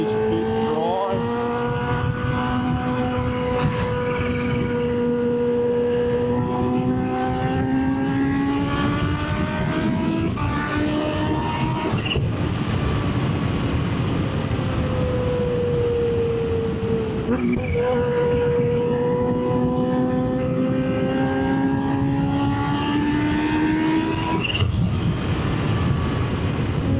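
Kawasaki Ninja H2 supercharged motorcycle engine while riding on a road, a loud steady drone with pitch rising and falling through gear changes, heavy wind rush throughout.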